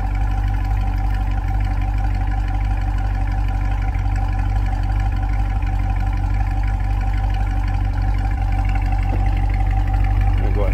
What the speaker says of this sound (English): Throaty exhaust sound.